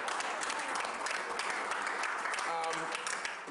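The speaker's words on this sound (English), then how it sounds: "Yeah, a standing ovation." Sustained standing-ovation clapping from a crowd at a business meeting, thick and steady from start to finish, with a voice briefly rising over the applause toward the end.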